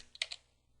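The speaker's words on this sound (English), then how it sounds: "let's type in yum install mail X" A few quick keystrokes on a computer keyboard enter a Linux yum install command, a brief close cluster of clicks followed by quiet.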